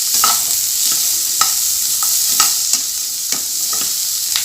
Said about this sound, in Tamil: வெங்காயம் போட்டாச்சு. நான் வெங்காயம் வந்து நல்லா வணக்கி எடுத்துக்கலாம்.